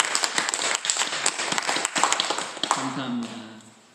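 A church congregation at a Sunday Mother's Day service applauds the mothers with a short burst of clapping, which fades after a few seconds into a quieter voice and tone.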